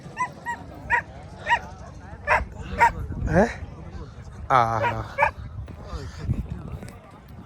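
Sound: hunting dogs barking

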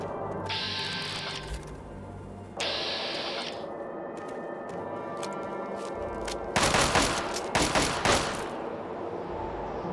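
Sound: gunfire in the video game Fallout 3

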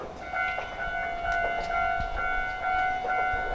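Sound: old-style train arriving at a station in Wakayama

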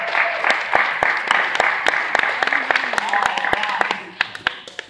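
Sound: child applauding himself at Tae Kwon Do test

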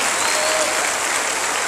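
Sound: crowd applauding at a political rally

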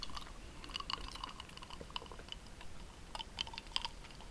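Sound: chewing Krispy Kreme doughnuts

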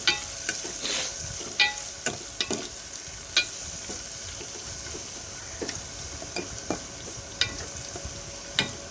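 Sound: onions and green chillies frying in a pan

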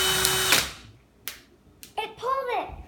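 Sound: power drill running

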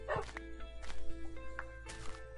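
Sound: dogs in the video game Minecraft

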